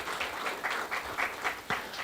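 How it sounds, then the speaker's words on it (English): An audience at a South African accessible tourism summit applauds after a session, a dense, even patter of many hands clapping together. It sounds moderately distant and steady throughout, with no speech over it. "A round of applause, ladies and gentlemen."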